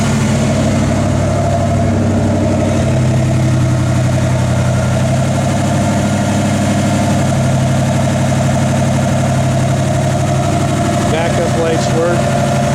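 A 1970 Chevrolet Nova SS V8 runs at a loud, close, steady idle with a deep rumbling burble, and a brief throttle blip near the end; someone talks over it at times.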